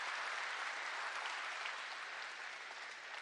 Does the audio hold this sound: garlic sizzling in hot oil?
no